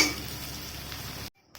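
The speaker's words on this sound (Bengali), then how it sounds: "একটু আগেই দিব যাতে এটা একটু ভালোভাবে ভাজা হয়" Sliced green chillies fry and get stirred in a pan for a chicken chilli sauce, giving a soft continuous sizzle with light utensil clinks before cutting off abruptly.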